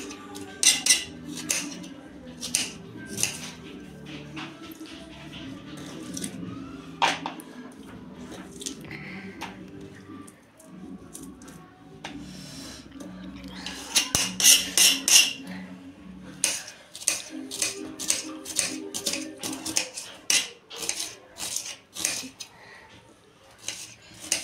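A knife cuts an onion into very thin slices for onion bhaji, giving quick repeated crisp chops and taps on a board, in bursts with short pauses, close and fairly quiet.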